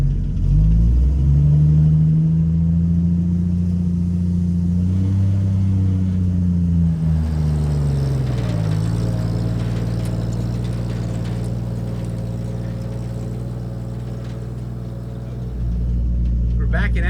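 An old farm truck with 300,000 miles rumbles along under way, its engine droning loud and steady with pitch rising and falling through gear changes, heard from inside the cab while a person talks.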